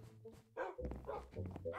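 Dog barking in the game Minecraft: a few short, near yips and barks in quick succession, with a voice briefly talking over them.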